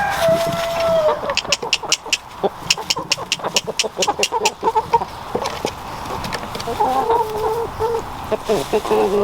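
Broody hens clucking nearby in quick, busy bursts, with sharp scratchy clicks and rustling running through the middle and a low voice murmuring briefly.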